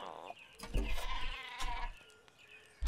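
A sheep in a video game bleats in a few wavering calls mixed with game effects, while players talk over it.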